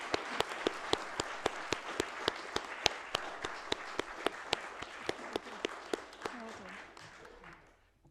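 Applause at an annual council meeting after a unanimous vote: steady, close sharp claps in an even rhythm over a broad bed of clapping that fades out near the end, with a brief spoken remark.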